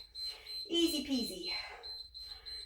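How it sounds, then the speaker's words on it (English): A workout timer alarm sounding during an exercise session, a steady high-pitched electronic tone held across the clip, faint beneath someone speaking nearby. "my timer is going to make a horrible noise in a minute"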